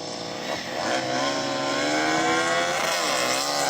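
A KTM Duke, a roughly 275-horsepower MotoGP bike and a Porsche 911 launch together in a drag race, their engines blending into one loud, steady, rising roar of revving and acceleration that builds and holds throughout with no talk.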